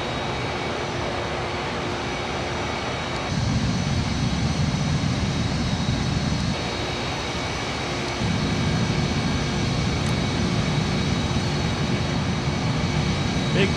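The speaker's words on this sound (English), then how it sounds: "Big, beautiful plane." Boeing 747 jet engines in Flight Simulator X drone steadily in a loud, continuous roar, with the tone stepping up and down slightly at a few points.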